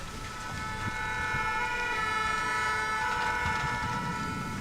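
Fire engine sirens sounding as crews arrive at a burning historic town hall, a loud continuous wailing tone over steady traffic rumble, lasting throughout.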